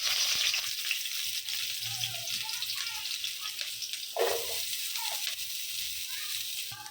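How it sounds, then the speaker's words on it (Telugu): Onions and chillies fry in hot oil for a chicken curry, producing a steady close hiss and sizzle with a few soft clinks and stirring noises, no speech. "ఆయిల్ వేడాక మనం ఫస్ట్ ఆనియన్స్ వేసుకోవాలి"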